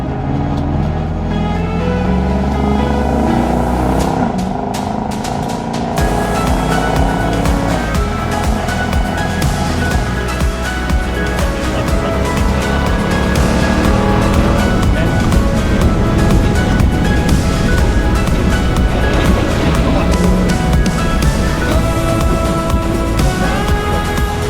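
A car towing a Masterpiece caravan drives off-road at around 80, its engine and tyre roar steady and loud throughout, with rushing wind and road rumble filling the whole stretch.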